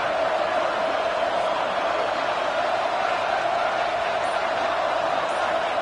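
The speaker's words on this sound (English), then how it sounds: "This Boise State crowd bringing the noise. It's deafening here on 3rd down." A Boise State home crowd roars at a football game on third down, a dense, continuous wall of cheering that holds steady and loud for several seconds.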